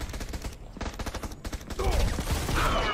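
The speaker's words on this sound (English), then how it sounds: "There's a lot of grenades flying around" Gunfire and grenade blasts in an online shooter game rattle on in dense, continuous bursts. A thicker, louder stretch of explosions swells in the second half, with a voice talking faintly underneath.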